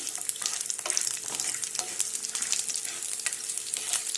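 Whole spices, ginger and garlic fry in oil with a lively, crackling sizzle, broken by frequent quick stirring scrapes at an irregular rhythm, close and fairly loud, without any talking.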